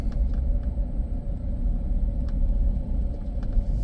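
Low, steady rumble inside a moving truck, a heavy road-and-engine drone with faint light knocks over the top and no talking.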